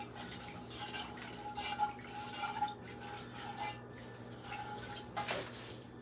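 A whisk scrapes around the bottom of a pot of broccoli cheddar soup, giving soft, repeated metallic scraping and stirring strokes against a faint steady background hum, with no talk.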